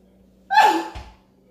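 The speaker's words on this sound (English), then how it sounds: "That wasn't a fake sneeze. That was a real sneeze." A single real sneeze while cooking with pepper, one sharp, close burst of breathy air that quickly fades, followed by a soft thump.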